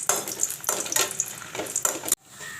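Dried red chillies fry in hot oil for Tamil vendakkai pachadi, a loud crackling sizzle that rises in several bursts as they are stirred, then cuts off suddenly into a quieter hiss.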